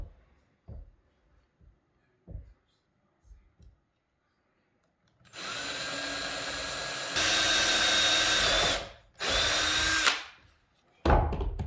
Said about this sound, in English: We have our countersink bit on the drill.